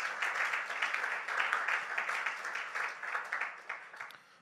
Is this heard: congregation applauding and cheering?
yes